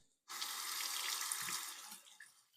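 Water runs steadily from a tap while a Parker SoloEdge magnetic single-edge razor is rinsed. A close, even rush of water starts abruptly and lasts about two seconds, with no voices.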